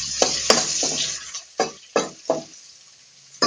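Peanuts with turmeric and chilli powder fry in a pan, with a soft sizzle under a series of sharp scraping stirs and clinks that come roughly every half second.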